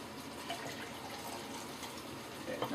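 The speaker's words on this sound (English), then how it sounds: "now fill the rest with water" Water runs steadily from a tap into a cooking pot of rice and leftover meat marinade in a home kitchen, a continuous close splashing and gurgling fill with no talking.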